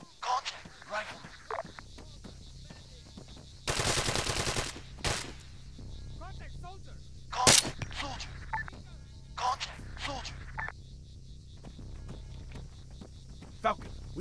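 Rifle and machine gun fire in an Arma 3 combat mission, with short bursts and single shots spread through the clip, one long loud burst near the start and sharper reports later, under radio-style voices calling contacts.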